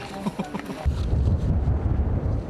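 Strong, gusty wind above 15 m/s roars and buffets the microphone in low rumbling blasts on a snowy mountain trail to Cheonwangbong peak, Jirisan, at minus 20°C, starting after a brief murmur of voices and continuing steadily.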